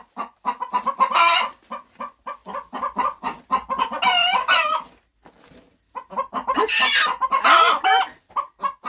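Chickens clucking in rapid bursts close by, with a rooster crowing twice in long, loud calls between the clucks.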